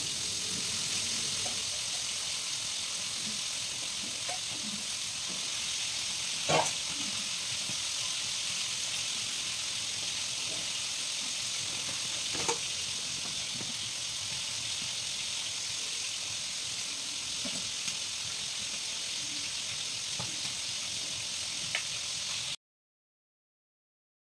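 A steady, even sizzling hiss of hilsa fish frying in a wok goes on for about twenty seconds, with a few sharp pops and clinks, then stops abruptly.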